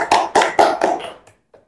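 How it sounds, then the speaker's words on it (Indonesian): Students in a classroom clap their hands in a short burst of four or five evenly spaced, sharp claps that quickly trail off into silence. "silakan tepuk tangan dulu"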